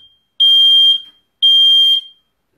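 A smoke alarm sounds two loud, shrill half-second beeps at a steady pace, close by with silence in the gaps.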